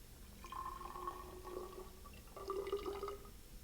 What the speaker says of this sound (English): We will carefully remove the rubber stopper from the flask and pour the water into a graduated cylinder.